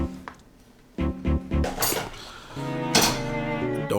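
A metal frying pan is picked up among dishes, giving several sharp clanks and clinks in quick succession, close and fairly loud.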